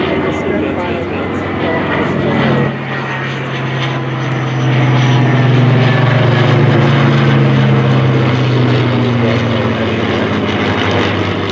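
Loud, droning propeller engine of a Supermarine Spitfire warbird flying past at a beach airshow, swelling slightly midway as it passes, with a voice talking over it.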